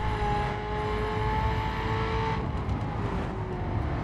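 A car in the racing video game The Crew drives on asphalt with a loud continuous engine drone and rising, shifting whine under road noise.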